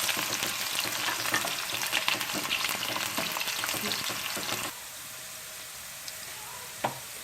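Chopped onions fry in hot oil in a pan for aloo matar pulao, giving a loud, steady sizzle with stirring scrapes. Partway through, the sizzle drops to a quieter, gentle frying hiss.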